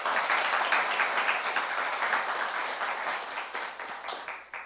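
Church congregation at a Saturday youth worship service applauding together, a dense, steady clapping that stays loud throughout and tapers slightly toward the end, with no talk over it.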